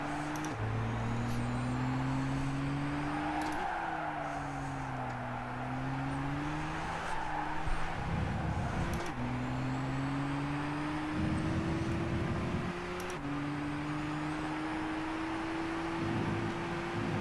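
A race car in Gran Turismo 6, in a 15th Anniversary event, laps a track with a loud, steady engine drone. Its pitch climbs and drops back sharply through repeated gear shifts and lifts for corners.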